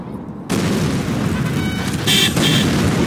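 A Tomahawk missile launch and explosion in C&C Generals Zero Hour: a sudden loud roaring rush that kicks in after a brief quiet and holds steady, with a sharper burst later on.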